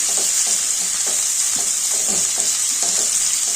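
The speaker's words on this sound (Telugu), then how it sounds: "వేయించుకోవాలి ఉల్లిగడ్డలు" Chopped onions, green chilies and cabbage fry in a pan for Bombay rava upma, giving a loud, continuous close-up sizzle with rhythmic spatula stirs and no talking.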